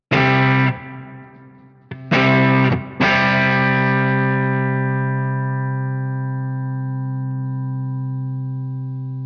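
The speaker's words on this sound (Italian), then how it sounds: "la differenza col sustainer, cioè col compressore upward dello stesso tipo e con gli stessi settaggi" An electric guitar note through an upward compressor sustainer on a Fractal Audio Axe-FX III rings out, is struck again twice, then sustains for a long time with the tone slowly fading.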